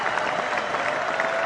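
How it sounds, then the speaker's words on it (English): A burst of applause, many hands clapping in a dense, steady patter, sounding like a recorded crowd. "There, now play the applause."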